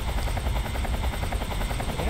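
A video game helicopter's rapid rotor thumping pulses steadily throughout, loud and close, with no voices over it, in Metal Gear Solid 3: Snake Eater.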